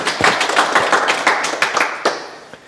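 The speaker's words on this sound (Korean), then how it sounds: "큰 박수 부탁드립니다" An audience at a Korean talk or lecture claps in a brisk burst, individual sharp claps standing out close and loud before the applause thins and fades toward the end.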